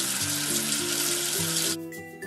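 Water rushing to rinse soap off a number in a children's counting game, a bright hissing spray lasting under two seconds over a cheerful musical backing, then cutting off.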